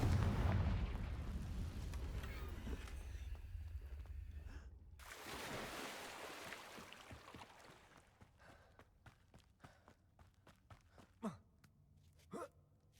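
Confringo explosion spell cast in Hogwarts Legacy: a heavy boom opens, a second blast hits around five seconds, then rumble trails off into scattered smaller clicks and pops, fairly quiet overall.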